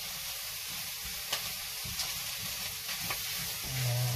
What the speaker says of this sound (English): Now, stir that around. Don't want this to stick to the pan.